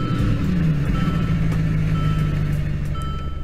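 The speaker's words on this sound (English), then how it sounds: "well, Shard, I can clearly hear the engine here" A Mercedes SLS engine running in the video game Greenville, a steady loud hum with a rising tone and a high continuous beep-like note over it, unbroken throughout.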